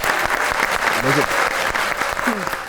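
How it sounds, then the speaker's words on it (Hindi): Audience applause for Inzamam in a talk show studio, a steady dense burst of clapping at a close, loud level, with a voice speaking briefly over it. "इंजी भाई के लिए तालियां हो जाएं"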